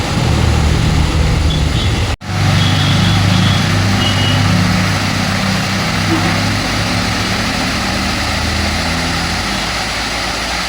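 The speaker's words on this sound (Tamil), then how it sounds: "வண்டி வருது" A vehicle engine drones steadily on a forested mountain road near Kadambur hills, loud and continuous with a brief dropout, while people talk over it.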